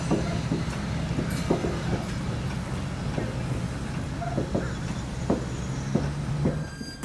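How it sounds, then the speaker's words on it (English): Orlando and Northwestern locomotive 1510 shoves a 10-car train north toward downtown Eustis, Florida, with a steady rumbling roll, repeated wheel clacks over rail joints and occasional high squeals, heard continuously from nearby. "O&NW 1510 gets orders to shove its 10-car train north towards downtown Eustis"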